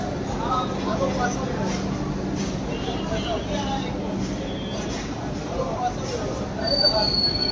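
Kulik Express with new LHB coaches rolling past, a steady rumble of wheels on track with faint squealing tones, fairly loud and continuous, swelling toward the end, with voices blended into the noise.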